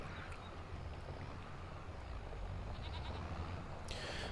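Goats, a baby among them, bleat in a Vintage Story farm pen over a steady low wind-like ambience, with a few short calls scattered across the moment.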